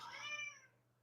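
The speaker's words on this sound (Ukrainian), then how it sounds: "Вибачайте, це наш кіт." A house cat gives a short meow indoors, faint and brief, fading out quickly with a low steady hum beneath.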